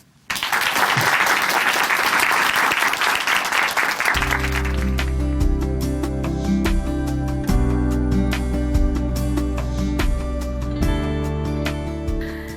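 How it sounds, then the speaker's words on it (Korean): A studio audience at a Korean Christian broadcast applauds to welcome a church guest, dense loud clapping for about four seconds that gives way to bright upbeat band music continuing to the end. "춘천 한마음교회 이미라 자매님 박수로 모십니다."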